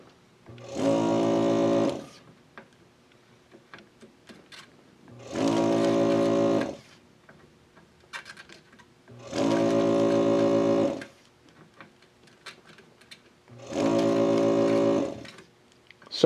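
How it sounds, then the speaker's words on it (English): A Kinemetrics 468-DC temperature regulator cycles on and off in four evenly spaced bursts of buzzing hum, each about two seconds long with quiet gaps between them, fairly faint against a still room. "I can hear our temperature regulator cycling."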